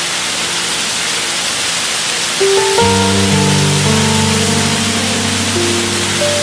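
A fire burns in a tiny homemade stove, giving a steady, loud hiss throughout; music with sustained tones comes in about halfway and continues over the flame noise.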